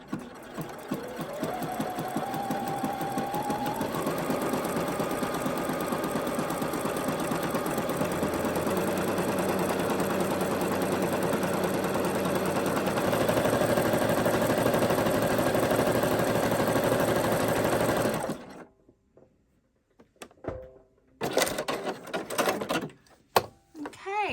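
Sewing machine running a zigzag stitch down a seam allowance, a steady close mechanical whir for about eighteen seconds, then stopping, followed by brief handling noises.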